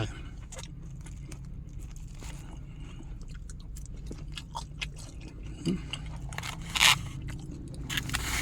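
Crispy pork rinds are bitten and chewed up close, giving a run of sharp crunches and crackles with scraping, over a low steady background hum.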